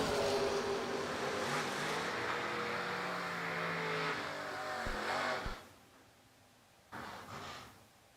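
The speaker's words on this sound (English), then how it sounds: "Andy red lights here. Kenny Underwood's going to go to the win." Drag race cars, including a 1968 Camaro, run down the strip at World Wide Technology Raceway with a loud, sustained engine roar that cuts off abruptly. A brief, closer burst of revving follows near the end.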